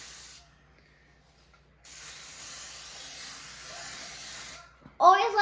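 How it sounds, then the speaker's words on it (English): A steady broadband hiss of cooking spray sprayed into a baking pan runs for a few seconds, close by, then stops and a voice begins talking. "Always let your parents help you spray this stuff into the pan."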